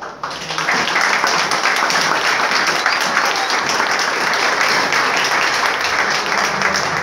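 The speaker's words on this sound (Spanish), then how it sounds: "Te damos un aplauso muy fuerte, muy, muy fuerte" Applause from the audience at a charity runway fashion show in Villahermosa fills the room, a dense, steady roar of many hands clapping for about seven seconds without pause.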